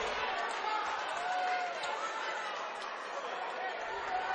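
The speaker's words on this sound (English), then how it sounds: "And the crowd's starting to get into it now, not just supporting the players." Basketball crowd at a boys high school game reacting to a foul call, a continuous dense murmur of chatter and shouting voices filling the gym at a steady, moderately loud level.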